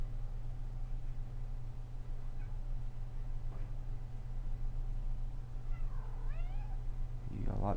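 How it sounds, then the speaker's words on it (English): A house cat meows a few times, short plaintive calls over a steady electrical hum and background noise, fairly close but not loud. "You got a lot to say there, kitty kitty."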